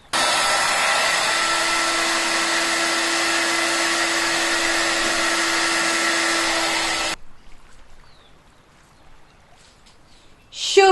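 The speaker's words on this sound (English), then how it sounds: "Get my hairdryer. Now remember, hairdryer needs to be on a cool setting." A hairdryer on a cool setting blows over an acrylic paint pour, giving a loud, steady whir with a constant hum for about seven seconds before it cuts off into near silence and a faint clatter at the end.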